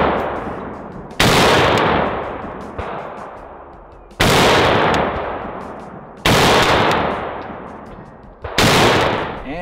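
Battle rifles, including an AK-variant M77, are fired outdoors in loud, sharp single shots spaced a second or two apart, each followed by a decaying echo.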